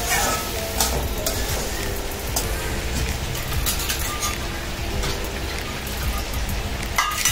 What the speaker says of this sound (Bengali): এবার আমি খানিক সময় কষিয়ে নিই, তারপরে আমি জল দেবো।